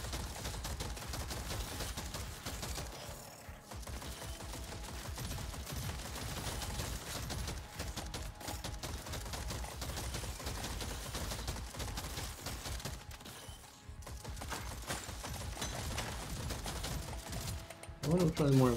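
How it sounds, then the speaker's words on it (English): Gold pistol fire rattles through a video game as dense, rapid bursts of shots keep going without a break over a busy game soundtrack, with a voice talking now and then. "Gold pistol."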